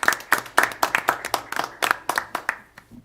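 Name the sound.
applause at a school board meeting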